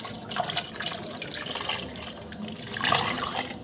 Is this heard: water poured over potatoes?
yes